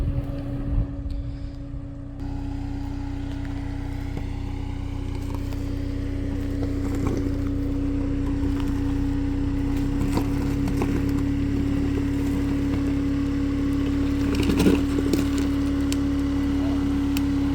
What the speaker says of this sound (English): He's attempting to back down in crawl control, speed 1, because it's a very loose surface